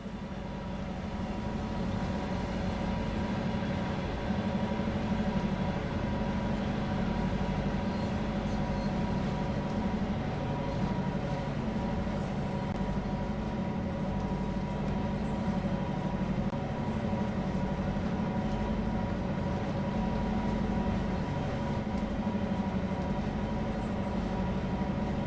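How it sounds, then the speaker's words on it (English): Steady low diesel drone of a Canadian National GP9RM locomotive in Train Sim World 2, heard from aboard the cab, with a constant engine hum and faint rolling rumble throughout, no talking. "You're currently aboard a GP9RM diesel locomotive."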